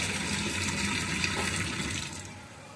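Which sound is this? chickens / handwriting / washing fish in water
washing fish in water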